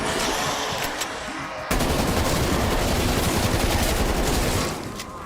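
Rapid automatic gunfire in Call of Duty Black Ops Cold War zombies mode, a lighter burst first and then a sudden louder, dense stream of shots that rattles on for several seconds before easing slightly.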